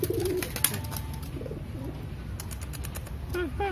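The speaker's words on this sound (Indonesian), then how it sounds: "Ini merpatinya udah giring, teman-teman tuh" A domestic pigeon coos in courtship, with soft low repeated coos at close range over a faint background hum and a brief chirp. No one speaks.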